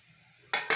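Cauliflower curry with garam masala is stirred in a pan on a gas stove. After a quiet moment, two loud, close scraping swishes come in quick succession.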